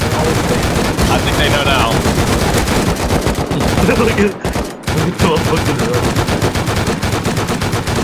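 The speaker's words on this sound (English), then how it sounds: "Start shooting, Sam." Rapid automatic gunfire in a shooting video game, dense sustained bursts filling the whole stretch with a brief pause midway, loud and close, while players talk over it.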